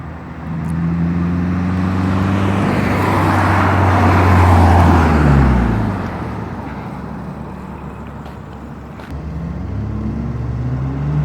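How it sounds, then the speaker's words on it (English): A 2015 Subaru BRZ with a performance exhaust approaches and roars past nearby, its engine note rising and then falling away, with road noise lingering afterward. "Now you guys hear some flybys of the BRZ."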